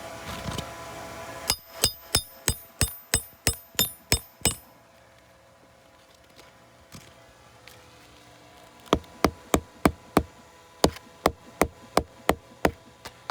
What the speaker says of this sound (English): when I'm hammering it down into place